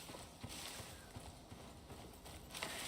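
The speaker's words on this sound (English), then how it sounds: "Oh, stupid horse! I hate them horses." Horse hooves clip-clopping in the survival video game Icarus, a steady run of close hoofbeats over a constant background, alone with no talk.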